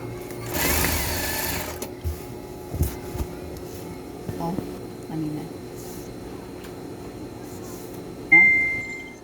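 A sewing machine stitches a curtain side seam, a short burst of fast mechanical whirring near the start followed by a quieter stretch with light handling sounds and a faint high whine at the end, with someone talking over it.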